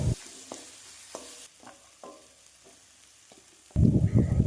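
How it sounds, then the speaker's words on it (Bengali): A spoon works mashed potatoes and spices around a pan for bread chop filling. Soft scrapes and taps come at intervals, then a louder burst of scraping and sizzle closes the moment. "যতক্ষণ না আলুগুলোর সাথে মশলাগুলো ভালোভাবে মিশছে ততক্ষণ ভালোভাবে মিশিয়ে নেব"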